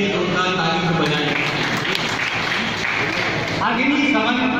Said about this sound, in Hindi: जाहिर है इसके लिए जोरदार तालियों की बजाई